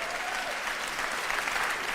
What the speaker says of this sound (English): you see how they're clapping?